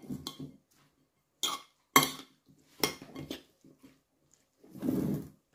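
A spoon scraping and clinking in a bowl as a mixture seasoned with salt and pepper is stirred, a few separate sharp clatters with pauses between, ending in a longer scraping stir.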